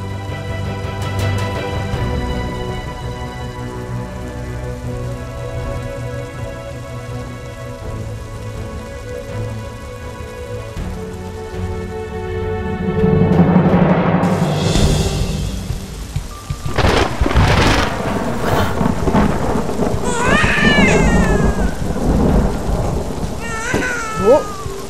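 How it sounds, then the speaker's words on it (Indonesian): Heavy rain with thunder: a steady rain hiss runs throughout, then a loud thunder rumble rolls in partway, with rain continuing strongly and faint higher sounds over it. "mana hujan deras lagi"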